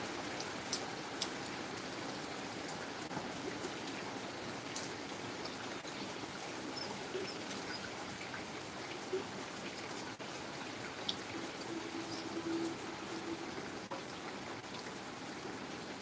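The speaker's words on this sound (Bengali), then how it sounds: "এখন আবার বৃষ্টি আসছে এখন মোটামুটি একটু ভালোই বৃষ্টি হচ্ছে" Steady, moderately heavy rain falls in an even, faint hiss with occasional soft drips, continuing without a break and with no voices.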